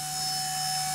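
A steady high-pitched motor whine with a constant drone, close and loud, like a small electric rotor spinning without pause, from a Nano S3 toy RC helicopter flying indoors.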